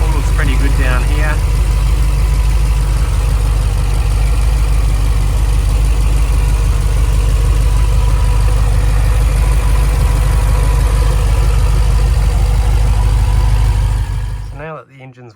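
A Holden VF / Chevy SS 6.0 LS V8 idles with a steady, deep rumble that holds close and loud for about fourteen seconds before cutting off; a brief high squeal comes near the start.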